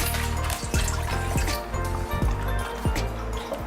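Water poured onto houseplants and succulents indoors, a steady close splashing trickle with repeated gurgling pulses as the stream fills and drains, loud and continuous with no talking.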